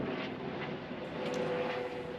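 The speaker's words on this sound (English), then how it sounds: "We also seem to be underneath the Melbourne Airport flight path." An aircraft on the Melbourne Airport flight path passes over the Royal Botanic Gardens in Melbourne, heard as a steady, fairly faint broadband drone that holds through the whole stretch.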